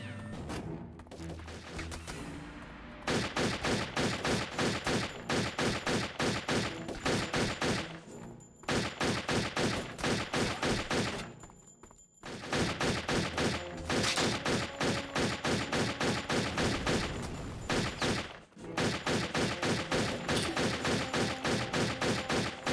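Pistol gunfire in the video game Turok 3 rings out in rapid, loud bursts of repeated shots. Short pauses break up long volleys, with no talking over them.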